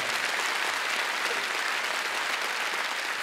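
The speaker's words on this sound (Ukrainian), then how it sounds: "Ваші бурхливі оплески" Concert audience applause fills the space with dense, steady clapping from a large crowd, sustained at an even level throughout without any speech over it.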